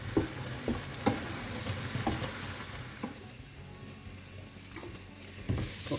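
Minced meat frying in a pan for mashed potato rolls, a steady soft sizzle with intermittent scrapes and clinks of stirring, fairly quiet and close, no voices.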